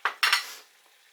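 Lobster and king prawn curry gets stirred in a pan: two or three short scraping, sloshing strokes close up, followed by a faint simmer, no voices.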